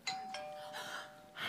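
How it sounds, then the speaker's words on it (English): A doorbell chiming during an Easter play service, several quick bright ding tones ringing out clearly and alone at low volume. "That's the doorbell."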